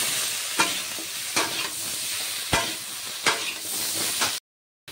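Green chilli paste sizzles in a hot pan under a continuous bright hiss, broken by several sharp scraping stirs spaced about a second apart, close and fairly loud before cutting off abruptly.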